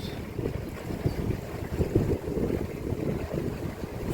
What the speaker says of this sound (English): God, it's windy, isn't it?